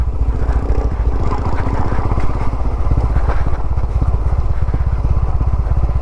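A motorcycle engine braking down a steep coffee estate trail, its ABS cable broken, giving a loud, close, rapidly pulsing low engine burble with light rattling, steady throughout and without talk.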